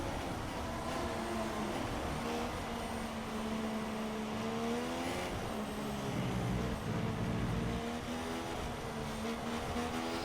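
Race cars in the F1 2016 video game roar at the British track, a continuous buzzing engine drone with rising and falling pitch as gears shift down the back straight, steady and fairly quiet.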